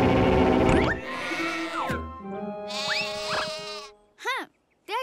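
Sheep bleating at a farm in a children's animated Thomas & Friends cartoon, a few short wavering bleats near and loud, with tonal effects and cartoon voices around them before two brief separate bleats at the end.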